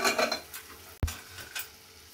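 Chickpeas dropped into a pan of fried masala for Punjabi-style chole, one sudden thud and clatter amid quiet sizzling and light stirring, close but faint.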